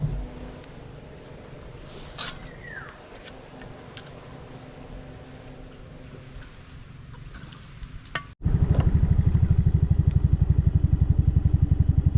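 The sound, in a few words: Yamaha Mio Sporty motorcycle riding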